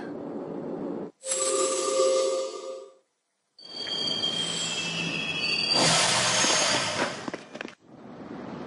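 A train pulls into a station in the video game Persona 3 Portable, with loud, sustained metallic wheel squeals and braking hiss. The sound comes in two bursts separated by a short silent gap.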